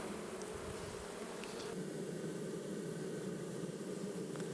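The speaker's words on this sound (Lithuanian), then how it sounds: "Bitės darbininkės zuja į mišką ir atgal." A dense, continuous buzzing of many worker bees fills the air, steady and close, with no voices.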